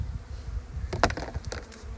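Honeybees from a newly installed package buzz close by in a few short bursts over a low steady hum, with no talking.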